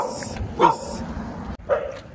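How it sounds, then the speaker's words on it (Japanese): A wary dog barks twice in short, sharp yips about a second apart, fairly close and moderately loud, with no talking over it. "あ俺らに吠えとったんじゃないんだ"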